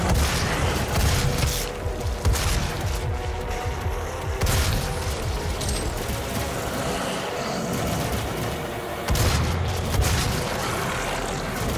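Gunfire and explosions in the first-person shooter Doom 2016, with dense bursts of shots and heavy booms that stay loud and continuous across the clip, layered over game noise.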